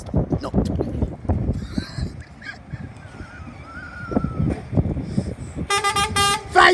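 A lorry driver sounds an air horn at the Exeter St David's Red Cow level crossing, giving a string of bright, honking toots near the end after a stretch of outdoor chatter and crossing ambience.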